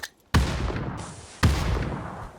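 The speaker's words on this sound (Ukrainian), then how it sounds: "Я кинув на праву сторону гранату цю." Two sharp, loud blasts about a second apart, each with a booming low-end thump and a short decaying rumble, from grenades exploding in the battle royale game PUBG.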